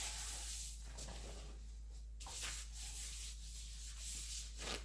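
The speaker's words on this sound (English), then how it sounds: "Towel dry your brisket." Paper towel rubbed and patted over a raw brisket, a soft papery scrubbing that comes in several close strokes with brief pauses, alone with no talk.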